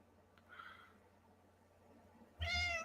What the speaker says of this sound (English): Libby, you're being a nicer cat lately